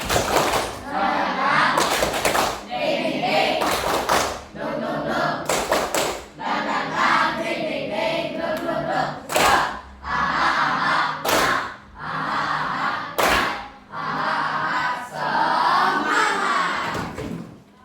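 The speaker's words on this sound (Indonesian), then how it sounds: "Tepuk semangat." Classroom group doing a rhythmic spirit clap, sharp hand claps in patterned bursts, some in quick runs, with children's voices chanting and talking between and over them at close range.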